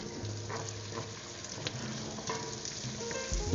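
Diced garlic clove frying in melted butter in a pan, a steady close sizzle with a few faint utensil clinks, alone without talk.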